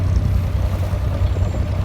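An abra water taxi crossing Dubai Creek from Deira toward the Old Souk, its engine a steady low rumble with water wash all around, loud and continuous.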